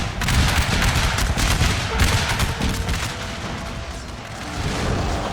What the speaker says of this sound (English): artillery is zeroing in on this position